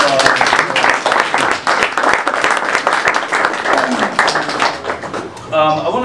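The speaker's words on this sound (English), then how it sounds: "please another round of applause" Another round of applause in an independent book art store during a literary crawl reading, loud, close, dense clapping from a small crowd with sharp individual claps, fading near the end as a voice starts speaking.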